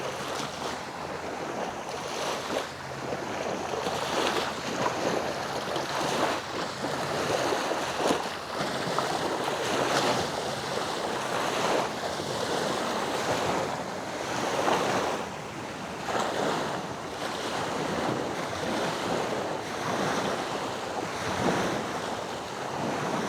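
Ocean surf at high tide rolls steadily onto the shore, a continuous broadband wash with repeated swells and steady wind noise buffeting the microphone, with no voices.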